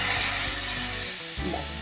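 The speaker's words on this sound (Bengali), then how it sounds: "সুন্দর করে কষিয়ে নেব তো মশলাটা" Masala sizzling and frying in a pan while being cooked down for an egg curry, a steady close hiss with a few stirring scrapes near the end.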